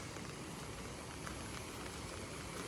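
Steady rain falling, a dense even hiss of drops with no pauses, moderately loud and close by, no voices.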